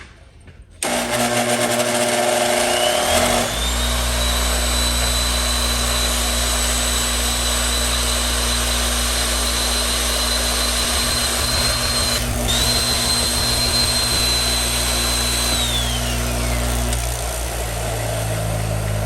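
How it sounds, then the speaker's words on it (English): A Milwaukee Model 0101 power drill spinning a wire brush whines steadily at high speed for most of the clip, with a brief dip midway and a scratchy brushing texture underneath, close and loud. "I'm going to actually run the drill while I run the wire brush"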